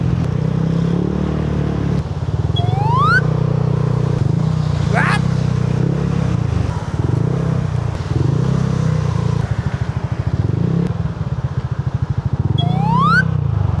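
Yamaha Aerox and Mio motor scooters moving through dense EDSA traffic, a continuous close engine drone with fluctuating revs, brief horn-like squeals and someone talking over the noise.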